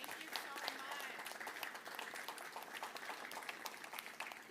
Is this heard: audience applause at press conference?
yes